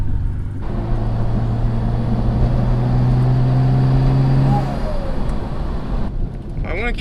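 A rebuilt Mitsubishi 3000GT VR4, burning oil, drones steadily as it drives. A sustained low engine tone holds, then eases off near the end. Cabin rumble fills the clip with no talk.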